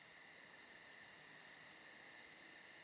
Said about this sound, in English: Here we're hearing the common pipistrelle